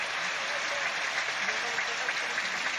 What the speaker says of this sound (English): Sympathetic applause.